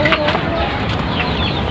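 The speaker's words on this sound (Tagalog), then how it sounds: "Ito manok natin." Native chickens cluck and squawk close by in a busy, overlapping chorus, with a voice talking faintly underneath.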